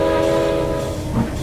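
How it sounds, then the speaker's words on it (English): A steam engine's whistle sounds as the train approaches, a loud sustained tonal blast with layered harmonics over rail rumble, wavering slightly toward the end. "Just then, a whistle cut off Hudson's response."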